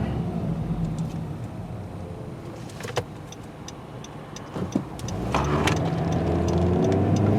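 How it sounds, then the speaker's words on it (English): Engine noise inside a 2014 Honda Civic EX while driving: a steady low hum and road rumble throughout, with a few faint knocks and a slight rise in level toward the end. "I'm surprised at the engine noise."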